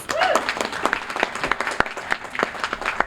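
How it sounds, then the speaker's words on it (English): Audience applause at a grandparents' annual conference, a brief burst of scattered clapping with distinct individual claps, fairly close and moderately loud, and no talk over it. "Let's give yourself a hand of applause."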